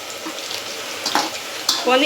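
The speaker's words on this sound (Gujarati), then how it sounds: "પછી તો આપણે જો વઘાર માર્યો છે રાઈ અને મેથી નાખી" Mustard and fenugreek seeds sizzle in hot tempering oil, a soft continuous frying hiss with a few sharper crackles and pops toward the end, close by.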